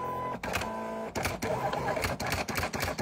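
A Silhouette cutting machine cuts out a gift box, whirring and buzzing steadily with short motor bursts and brief stops in between, close and alone.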